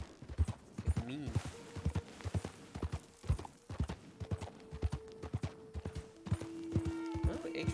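Horse hooves clip-clop in steady rhythmic steps across the Fortnite game world, close and fairly loud, with a brief neigh early on and a sustained tone near the end.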